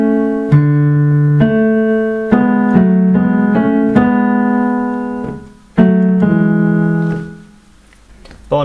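Piano playing bar two of the link section of a song, slow and deliberate, with a series of clear held notes and chords struck one after another, ringing and decaying, solo with no voice.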